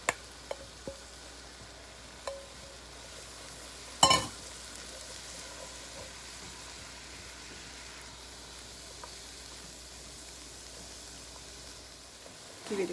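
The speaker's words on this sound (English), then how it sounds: "We're going to put the carrots and peas." Carrots and peas fry in a pan, a faint, steady sizzle broken by a few clinks and scrapes of stirring, including a sharper knock near the middle and another at the end.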